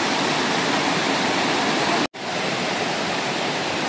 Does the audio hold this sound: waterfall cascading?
yes